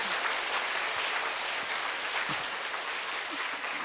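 Korean church congregation applauding during a Sunday worship service, a steady, even roar of many hands clapping together that continues unbroken, with a few faint low thumps beneath.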